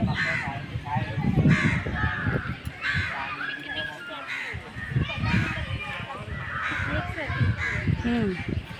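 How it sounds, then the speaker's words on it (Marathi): Crows caw repeatedly and loudly, several harsh calls overlapping, with people talking underneath throughout. "सुमधूर असा पक्ष्यांचा आवाज येत आहे"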